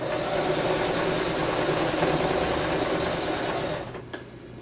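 A sewing machine stitches fabric for a homemade puppet, running steadily and close for most of the moment before slowing and stopping near the end.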